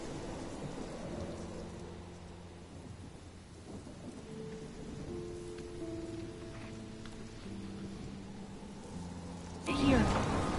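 Video game storm with steady rain hissing and a low thunder rumble beneath tonal musical notes, then a sharp louder burst near the end; no spoken words.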